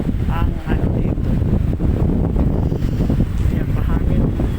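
Strong outdoor wind buffeting the microphone in a continuous loud rumble, with a voice speaking faintly underneath.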